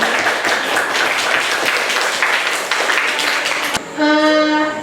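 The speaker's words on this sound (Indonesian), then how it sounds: "kelompok kita tepuk tangan dulu" A class group in a school lesson on fungi claps together in a brisk round of applause that fades near the end, followed by a sustained tonal hum.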